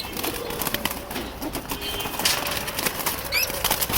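Pigeons in a loft in a Mirpur 13 home in Dhaka, making soft coos and brief wing flaps amid busy rustling and clatter, with faint background sound throughout.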